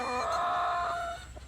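A quality roundhead gamecock crows once in a long, strained call that trails off into a few low clucks, close by with no talk.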